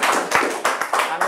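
Studio audience on a talk show clapping to welcome a guest, with loud, close claps in an even, rhythmic pattern of about three per second.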